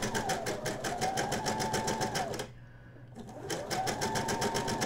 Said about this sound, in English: I'm going to line up the edge of the hem lace with the inside edge of the left part of the presser foot, and I'm just going to do a straight stitch.